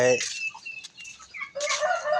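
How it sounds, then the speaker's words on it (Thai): Chickens cluck and squawk nearby in short, bright bursts separated by brief pauses, loud and close with no talking. "เลี้ยงไก่ครับ"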